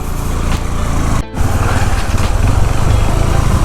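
Honda CRF 150L motorcycle climbing a steep hill, its single-cylinder engine droning loud and close with a steady, rough exhaust note, a momentary dip as the throttle eases before the strain resumes.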